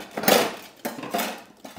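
A metal cheese slicer for hard cheese like parmesan clatters against other utensils in a kitchen drawer, making loud close rattling and scraping in two or three quick bursts.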